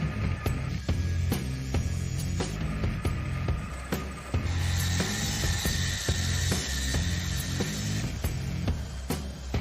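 DOM steel tubing is cut with a power tool, a continuous loud grinding, sawing roar broken by repeated sharp knocks and scrapes, with no voices over it.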